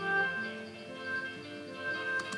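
MuseScore plays a short instrumental phrase in clean, synthetic tones without ties. Repeated notes are re-struck separately, and no one is talking.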